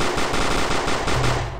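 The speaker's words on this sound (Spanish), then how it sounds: "Y tengo una ametralladora infinita." Nonstop machine-gun fire in the video game Resident Evil Containment, a loud, dense rattle of rapid shots with no pauses, heard alone without talk.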